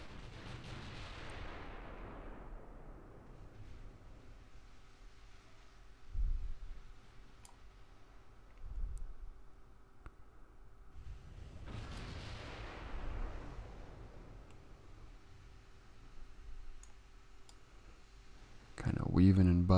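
Naval gunfire in Ultimate Admiral: Dreadnoughts, with heavy booming salvos that swell and roll off around the start and the middle, scattered thuds between them, and a sharp loud blast at the end, all under a continuous low rumble.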